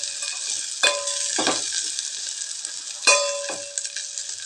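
Garlic sautéing in hot oil for kalavaikkai sambar, a steady close sizzle with two sharp stirring scrapes of a spoon against the pan.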